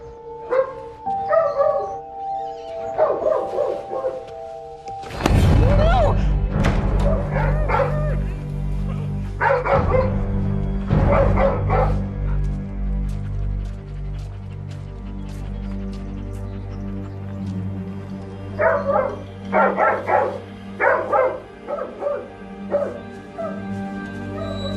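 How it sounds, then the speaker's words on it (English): A dog barks repeatedly in loud bursts, with yips and whimpers between them, close by and mostly alone, with a voice calling briefly. "He's barking like crazy."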